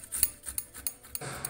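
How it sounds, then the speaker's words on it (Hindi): Fresh turmeric root being grated on a kitchen grater for a khoya and dry fruit atta pinni laddu, a series of short, close rasping strokes in an uneven rhythm, with a steadier scraping stretch near the end. "ये देखिए हल्दी को हम कद्दूकस कर लेंगे सारी को"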